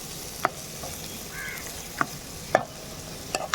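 Spinach, garlic and chili powder fry in a pan under a steady soft sizzle, broken by a few sharp scrapes and clacks of a stirring spoon against the pan.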